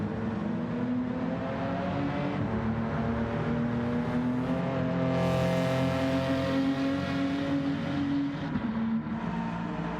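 Race cars in a racing video game, a steady engine drone with sustained tonal whine and shifting pitch throughout, loud and continuous with no talk.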